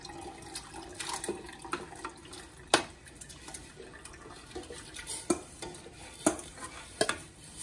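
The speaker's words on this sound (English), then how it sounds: "Now we're ready for the mushrooms. I'm gonna add all of these in." Mushrooms and their leftover pan juices go into a soup pot and are stirred, making a string of clattering spoon knocks against the metal over a low, wet sizzle and sloshing.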